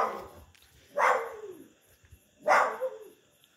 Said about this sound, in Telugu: ఈడ ఒక 2 కుక్కలు ఉన్నాయి.